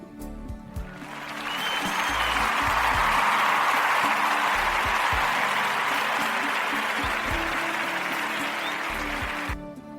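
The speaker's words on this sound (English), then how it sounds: "Always happy and grateful to receive your applause." An audience applauds at the opening of a talk show, clapping that swells in after a moment of quiet, holds as a steady, even wash of many hands, then cuts off near the end over a faint low hum.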